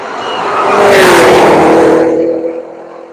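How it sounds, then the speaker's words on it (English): Cadillac CTS-V race car sweeping past on the Road Atlanta circuit, engine roar swelling loud and close, then fading away as it passes, with a brief tire squeal. "Here comes the Cadillac CTSV."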